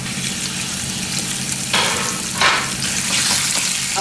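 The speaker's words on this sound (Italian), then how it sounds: "L'aglio, facciamo soffriggere un po'." Garlic and trout fillets frying in a pan make a steady, close sizzle with a couple of louder hissing bursts as food hits the hot oil.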